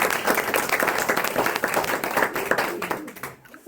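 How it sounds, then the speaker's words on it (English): Audience at a Mill Creek Campground gathering applauds its board members with a loud, dense round of clapping from many hands that holds steady for about three seconds, then thins out and fades. "So let's give our board members a round of applause."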